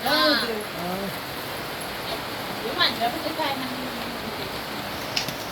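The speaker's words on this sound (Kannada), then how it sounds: "ಮಳೆನೂ ಬಂತು ನೋಡಿ" Steady rain hisses throughout, a broad even wash of falling water, with a person briefly talking near the start.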